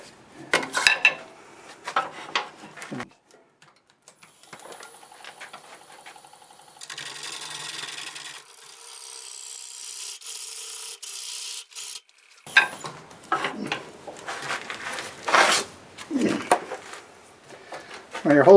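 A bowl gouge cuts into wood spinning on a lathe, giving a steady scraping hiss for several seconds between stretches of talk. Shorter rasping bursts occur alongside the speech.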